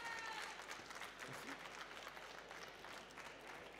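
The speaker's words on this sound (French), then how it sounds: "Un applaudissement pour les juges." Applause for the judges at a coffee competition semi-final, a soft, diffuse clapping from a crowd in a large hall, steady and somewhat distant throughout with a faint tonal sound at the start.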